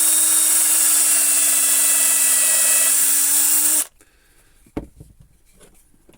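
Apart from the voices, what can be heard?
power drill drilling hole in wood slice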